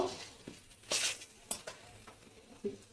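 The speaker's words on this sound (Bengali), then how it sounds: "এবারে একসাথে মিশিয়ে দেব দিয়ে নাড়তে থাকবো" Boiled jackfruit and prawns are stirred together in a pan, giving a few scattered scraping clinks and soft rustles with a faint sizzle underneath, close and fairly quiet.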